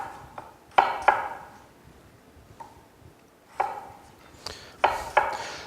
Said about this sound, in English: So I'm going to go through and just kind of chunk them about like so.